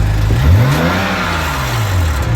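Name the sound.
BMW 335i N54 engine revving with wastegate rattle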